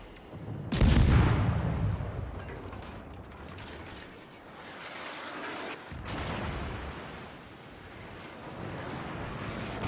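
A destroyer's guns fire in a naval battle in World of Warships, one sharp heavy boom early on and a second blast a few seconds later, over rumbling game ambience.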